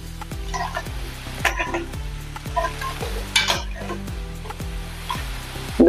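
Poha snacks frying in hot oil while being turned and stirred, with a steady sizzle under repeated scraping strokes of a spatula against the pan, close and alone.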